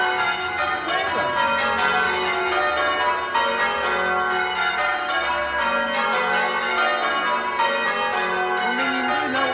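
Church bells ringing from the tower of St. John the Baptist church in Tideswell, a dense, continuous peal of overlapping strikes and ringing tones, loud and close.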